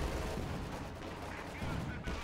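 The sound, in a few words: Walking Stuka rocket artillery firing, from video game Company of Heroes 2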